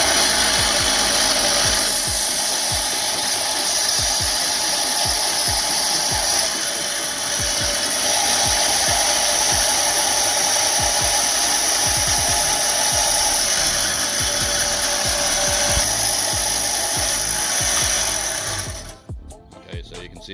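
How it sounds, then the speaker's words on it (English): A band sander grinds down the end of a hydraulic fitting for a Ford 1220 diesel tractor, a steady, loud, gritty whir running continuously and close up before cutting off abruptly near the end. "grind the end down using a band sander like this"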